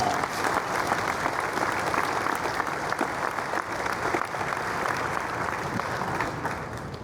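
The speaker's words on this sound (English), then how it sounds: "Let's give Odea and Corporate Optics a round of applause." Dense, sustained applause from an event audience, with many hands clapping steadily at an even, loud level throughout, close and without any voices.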